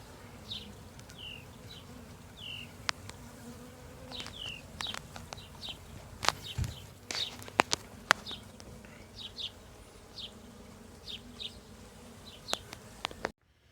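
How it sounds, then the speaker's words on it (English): Honey bees buzz around an open hive colony just requeened, individual bees droning past close by in short rising and falling passes over a low steady hum, with occasional knocks and handling clatter. "hopefully we have enough bees to make this colony cook"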